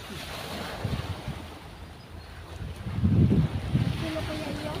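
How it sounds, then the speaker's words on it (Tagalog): Rough sea surf and gusting wind on a shore where fish are being sold, a steady broadband wash with louder surges of waves, the biggest swell building near the end, with faint voices in the background. "Kalinggak na naman ang dagat"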